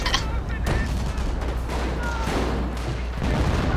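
Artillery shells land in a Hill 331 video game battle, bringing a dense, continuous rumble of heavy booms and gunfire that stays loud throughout, with voices now and then.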